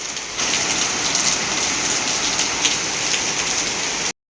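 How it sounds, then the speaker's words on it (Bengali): Heavy monsoon rain pours steadily onto flooded surroundings, a dense close hiss that starts abruptly and holds at an even, loud level throughout, with no voices. "এই বৃষ্টি কি শেষ হবে না বৃষ্টিটা হচ্ছে দেখুন একবার"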